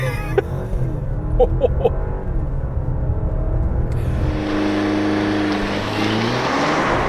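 A 2020 Alfa Romeo Stelvio Ti Nero Edizione with a 2-liter turbo four-cylinder launching hard without launch control, its engine droning loudly then rising steadily in pitch as it accelerates, heard from inside the cabin.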